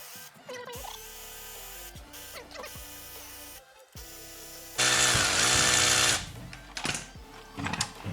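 Power tool at work while removing a turbo VR6 clutch: short whirring bursts in the first half, then a loud, steady high whine for about a second and a half, followed by a few uneven tool bursts, nearby and without talk.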